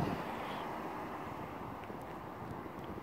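Steady wind rushing across the microphone as a broad, constant roar with no clear gusts, moderately loud throughout.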